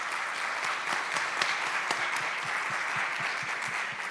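An audience at a medical congress symposium applauds a guest speaker, steady dense clapping that carries on throughout.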